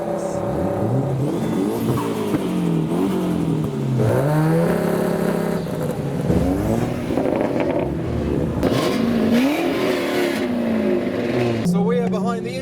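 A loud Ford Mustang Cobra SVT engine at a modified car show revs and roars up and down in pitch, close by, with people talking over it throughout.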